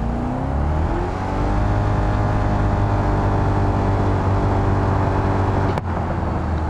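A car engine in the BeamNG driving game revs loudly and steadily, holding a sustained droning roar close up, then breaks off briefly near the end before continuing.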